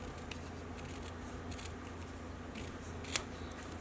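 Scissors snipping through craft paper along an inked line, quiet close cuts with one sharper snip near the end.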